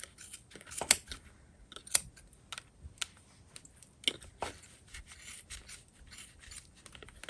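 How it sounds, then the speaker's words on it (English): Quiet, scattered snips of scissors cutting yarn through the grooves of a pom-pom maker for a bulky crocheted beanie, several separate close cuts with soft rustling between them. "Trim the yarn."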